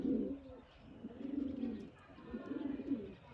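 Sialkoti pigeons coo in three slow, rolling phrases, each a low throaty burble that swells and fades, close and fairly loud with no talking.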